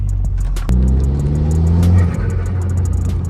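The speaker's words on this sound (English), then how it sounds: "The surge sounds good." Dodge Caliber SRT-4 turbo engine revving and surging from inside the car: a sharp throttle blip rises into a loud, sustained droning rev with a wavering surge, then settles into a steady rumble, with faint high ticks throughout.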